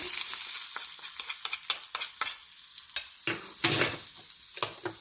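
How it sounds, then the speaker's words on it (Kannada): Green chillies crackle and spit in hot tempering oil for a boiled raw mango chutney, with close, irregular bursts of sizzling and scraping stirs over a steady frying hiss, no voices. "ಹೀಗೆ ಒಗ್ಗರಣೆಗೆ ಹಸಿ ಮೆಣಸು ಹಾಕಿದರೆ ಪರಿಮಳ ಜಾಸ್ತಿ ನೋಡಿ"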